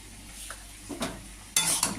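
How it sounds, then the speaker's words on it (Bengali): Cooked dal poured from a vessel into sautéed vegetables in a pot, giving a soft splash and sizzle that swells near the end, close by, with faint stirring clinks. "এবার আমি ডালটা ঢেলে দিচ্ছি সবজির মধ্যে"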